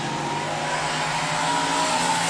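A drift car spins out on the circuit at a pro drift championship battle, its engine screaming and tires squealing in a sustained, loud, steady whine with a rising pitch and no voices.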